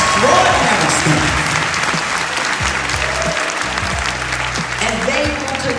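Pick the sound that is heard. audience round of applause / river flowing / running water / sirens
audience round of applause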